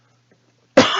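A single sharp, close cough bursting out abruptly after near silence.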